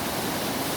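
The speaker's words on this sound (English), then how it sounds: "That water right there is moving." Fast-moving water from the St. Joe River rushing through the East Race Waterway in South Bend, heard as a dense, continuous roar with no pauses.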